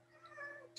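A cat gives a single faint, drawn-out meow in a quiet indoor room, ending with a brief higher note.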